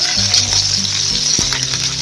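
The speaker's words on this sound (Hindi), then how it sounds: "अब हम इसमें ऑयल डालेंगे एक पतीले में, साथ ही हम प्याज डाल देंगे" Onions frying in oil in a cooking pot for yakhni pulao give a steady, close, bright sizzle with faint stirring scrapes underneath, continuous throughout.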